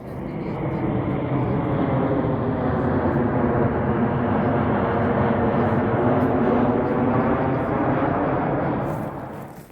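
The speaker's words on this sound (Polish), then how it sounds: "te samoloty nam zagłuszają e, cudowną ciszę i śpiew ptaków" A passing airplane roars overhead in Rome, a loud sustained rumble that swells and holds for several seconds before fading, with a faint voice underneath.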